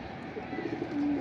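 Pigeon cooing from a Lalbag-type breed pigeon, low soft coos repeating in a short run, the last one drawn out and louder, close by amid faint background noise.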